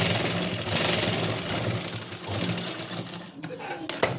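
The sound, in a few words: sewing machine stitching salwar fabric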